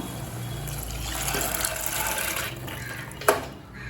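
Water and soaked green gram pour steadily into a pot, a continuous wet rushing that ends with a sharp splash near the end.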